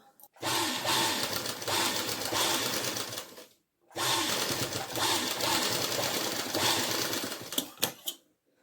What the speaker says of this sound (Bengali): এবারে 1/2 ইঞ্চি বরাবর সেলাই দিয়ে নেব